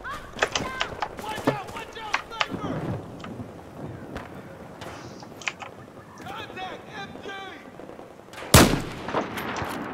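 Rifle gunfire in the video game Battlefield cracks out in repeated sharp shots and heavier booms amid wind-like noise, with a loud burst near the end and a voice talking in between.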